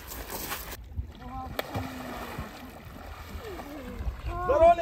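Several people wade into outdoor water during a family army-style training game, with splashing and sloshing around them as voices call out and talk over the movement, the splashes growing louder toward the end.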